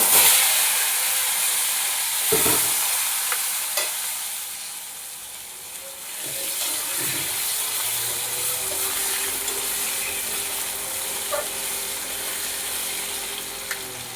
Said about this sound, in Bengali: আলুগুলো ভালো করে লাল লাল করে ভেজে নেব